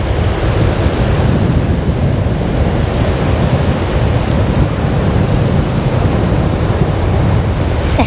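Strong, steady wind buffets the microphone over continuous crashing foamy surf on a beach during a week of relentless wind, a loud, dense broadband roar with no breaks and no talk.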